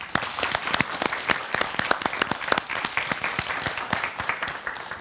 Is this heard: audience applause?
yes